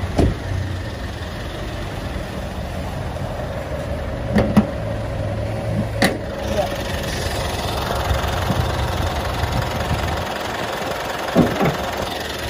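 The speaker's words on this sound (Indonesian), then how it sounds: "Kita lihat dari sektor mesinnya, suara mesinnya ya." A 2016 Mitsubishi Pajero Sport Dakar 2.4 with the 4N15 diesel idles steadily with the hood open, a close, even mid-low rumble joined by a few sharp clicks and taps.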